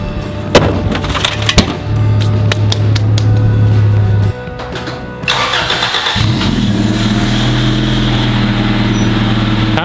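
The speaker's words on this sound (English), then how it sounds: "So all we did is cut off the muffler." Honda Civic EF engine with the muffler cut off, a loud close rumble that starts up, holds a steady idle tone, cuts out briefly, then returns deeper and stronger, with some clanks and rattles in the background.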